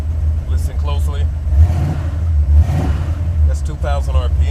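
A Buick 455 Stage-1 engine in a Regal-T idles in park, then revs with a steady low rumble, with a fault that makes lifter noise. Short bursts of speech cut in over the engine near the start and end.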